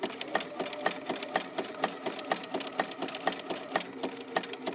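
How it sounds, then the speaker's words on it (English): A sewing machine back stitches through coiled rope on a basket, its motor chugging in a rapid, regular knocking rhythm, close and steady throughout. "I'm going to back stitch right back to the middle"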